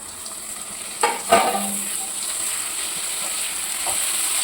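Garam masala and tomato hit a hot pan for chana pulao with a steady soft sizzle, a couple of brief stirring knocks near the start, then even frying hiss continuing alone.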